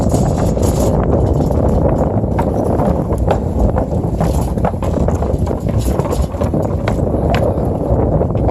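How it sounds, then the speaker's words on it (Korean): Strong seaside wind buffets the microphone in a constant loud, rumbling roar, with gusts swelling and easing throughout and no voices over it. "무슨 바람이 이리 불어?"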